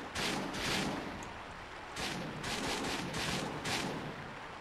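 Shots ring out in Castlevania: Mirror of Fate, a series of roughly six broad, booming bursts in an uneven rhythm, each swelling and fading, moderately loud with no talk over them.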